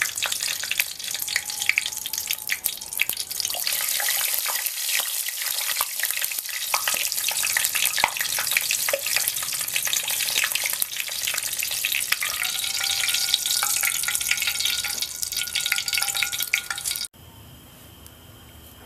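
Hot melted wax for recoating a flyback transformer bubbles and crackles as trapped moisture boils out, a dense continuous sizzle like deep frying that lasts throughout and then drops off sharply near the end.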